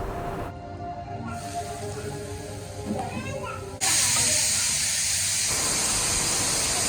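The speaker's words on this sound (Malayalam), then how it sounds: "നമ്മുടെ കിഡ്നി ബീൻസിൻ്റെ വിസിലൊക്കെ വരുന്നുണ്ട്" A sudden loud, steady hiss of escaping steam bursts from a pressure cooker cooking kidney beans and continues to the end, following quieter kitchen sounds and faint talk.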